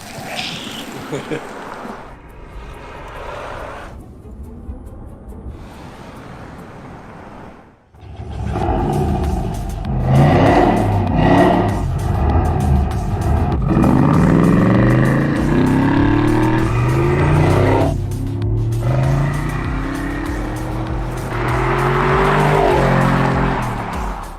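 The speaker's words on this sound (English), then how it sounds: "Needs more turbo spool on it, Pete." A turbocharged car engine revs hard and climbs in pitch, with rising turbo spool whine and roar over about twenty seconds after a quieter idling start.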